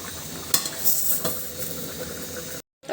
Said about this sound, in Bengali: তরকারিটা কিন্তু খুব সুন্দরভাবে ফুটতে শুরু করেছে